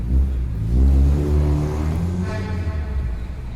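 A car engine revving amid city traffic, a loud low rumble that swells and holds steady for a few seconds with no one talking.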